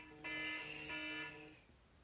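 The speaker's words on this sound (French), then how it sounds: "Désolée, c'est mon réveil." A phone alarm clock rings out for about a second and a half, a bright buzzing tone with rich harmonics that starts abruptly, holds steady, then fades, heard close with no talking.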